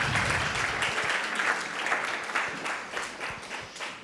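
A church congregation claps and cheers in praise during a French-language worship service, steady dense applause that holds throughout before thinning slightly toward the end.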